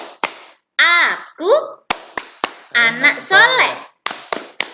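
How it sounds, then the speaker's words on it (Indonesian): Rhythmic hand clapping in sharp, loud claps, alternating with a child's chanted lines in a classroom-style clapping game, the claps landing between and after the spoken phrases. "Ayo sama-sama yuk tepuk dari rumah yuk."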